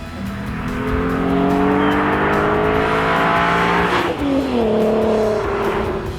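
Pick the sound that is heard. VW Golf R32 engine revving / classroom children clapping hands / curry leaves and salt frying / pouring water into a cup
VW Golf R32 engine revving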